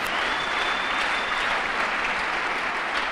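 A church congregation applauds together after a call to acclaim the Lord, a steady dense wash of clapping hands that holds loud and even for the whole stretch.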